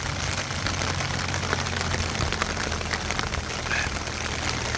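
Steady rain patters densely on surfaces, a continuous hiss with scattered drop hits and a faint low hum beneath.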